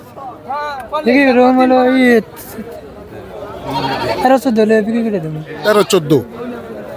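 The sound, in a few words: goat bleating at a livestock market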